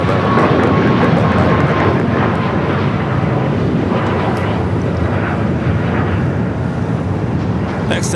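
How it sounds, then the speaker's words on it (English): A United Airlines Boeing 757 takes off from LAX, its engines producing a loud, continuous broadband roar that holds steady throughout without pause. "Next takeoff, United Airlines Flight 2268 heading to Dulles, 757 at 300."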